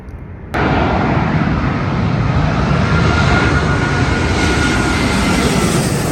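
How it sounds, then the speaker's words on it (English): A Qantas Airbus A380 jet passes overhead on approach at LAX, bursting in suddenly as a loud, sustained broadband engine roar that stays steady and near through the rest. "Here it comes. Qantas A380 all the way from Sydney."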